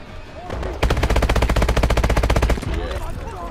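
Automatic gunfire in the video game Call of Duty: Advanced Warfare, a loud, rapid, even burst of shots lasting nearly two seconds, with faint background game sounds before and after.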